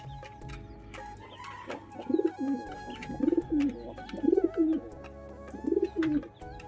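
Pigeons cooing in a loft after heavy rain, a repeated rolling coo sounding about once a second over a steady low background hum.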